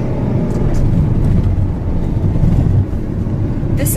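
A Ferrari engine drones steadily from inside the moving car, a loud, low, continuous rumble with a slight dip near the end, heard without talking.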